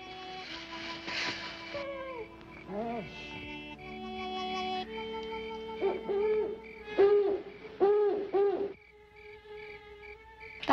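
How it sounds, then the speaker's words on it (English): An owl hoots at night in the 1959 film The Sad Horse, giving a series of rounded, repeated hoots that grow louder midway, layered over soft orchestral music and faint insect-like trills. "That's only an old owl."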